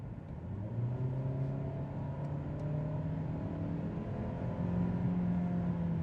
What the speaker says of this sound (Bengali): তো এক্সেলারেশনটা দিয়ে দেখি।